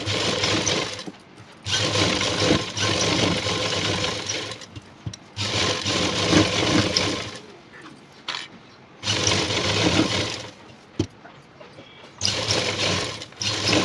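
Sewing machine running long stitches across an embroidered work blouse: a loud, steady mechanical whirr in several long runs, each broken by a brief pause, close up and with no talking.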